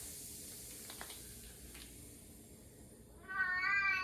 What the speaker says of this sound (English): And that's my cat Lingling.